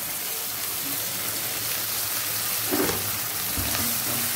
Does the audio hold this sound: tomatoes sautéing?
yes